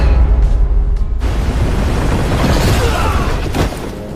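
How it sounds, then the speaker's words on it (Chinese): Shore defense cannons firing on a river in an animated battle, heard as loud booming blasts with a deep rumbling roar that swells and rolls on, with no voices over it. "岸防炮给我开火！"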